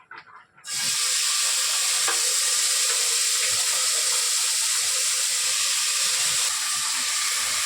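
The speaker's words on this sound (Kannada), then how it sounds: "ಸೊ ಇದನ್ನ ಇವಾಗ ಫ್ರೈ ಮಾಡ್ಕೊಬೇಕು" Marinated vegetables for a Hyderabadi vegetable dum biryani hit hot ghee with a sudden loud burst of sizzling, then fry in a dense, steady hiss with occasional soft stirring clicks.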